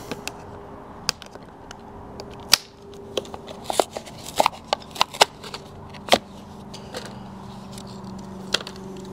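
A Hot Wheels Honda Civic toy car in Spoon livery is unboxed, with scattered crisp crackles, pops and tearing snaps of blister packaging and cardboard, close and irregular, with no talking.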